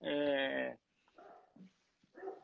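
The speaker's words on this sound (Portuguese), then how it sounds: "Nossa, tá o cachorro aqui. Tem um cachorro aqui." A dog gives a loud, harmonic bark or whine up close, followed by quieter scattered vocal sounds, with no talk over it.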